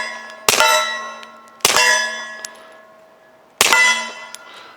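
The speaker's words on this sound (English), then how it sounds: "Hopefully you can get a good view of me smoking that steel." Pistol rounds from a suppressed Springfield Armory Operator 1911 strike a steel target: three loud, sharp metallic clangs, each ringing out with a long decaying tone, spaced about a second or two apart.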